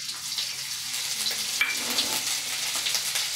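Ginger garlic paste frying in oil in a kadai, a steady close sizzle with light crackle throughout, stirred occasionally, no talking.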